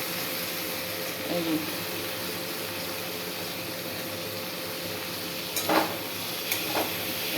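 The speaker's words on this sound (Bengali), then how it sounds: "এইভাবেই ভাজা ভাজা করব করে নামিয়ে ফেলব" Chopped potato and tomato fry in a pan with a low continuous sizzle, broken by a few louder scrapes and clinks of stirring near the end, and no talking.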